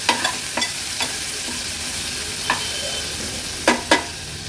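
A coarse ground spice paste fries in oil with a constant soft sizzle, broken by a few scattered scrapes and taps of a spatula against the pan, close and unaccompanied by voices.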